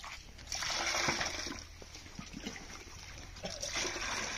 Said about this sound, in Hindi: पहले हम थोड़ा बाल्टी में इस तरीके से पानी लेंगे